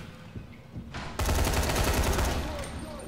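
Sustained full-auto fire from a miniature rifle in a video game, a dense rapid stream of shots that kicks in abruptly after a short lead-in and stays loud to the end.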